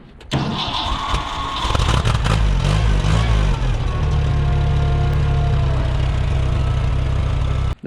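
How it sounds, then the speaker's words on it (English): A Ford tractor engine cranks, catches and settles into a loud, steady running rumble, close by, with the drone continuing for several seconds before cutting off at the end. "That very well may be one of the last times this Ford turns this bush hog."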